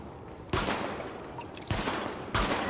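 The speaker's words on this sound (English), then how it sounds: "Weapon test initialized. Open fire at the highlighted targets." Gunfire rings out in a weapon test in the video game The Division, with three sharp separate shots spaced roughly a second apart, each followed by a short ringing tail.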